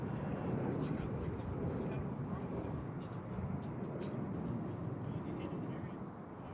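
A Boeing 777 airliner taxiing at DFW Airport gives a steady, broad jet-engine rumble that holds at a fairly constant level throughout, with faint voices in the background.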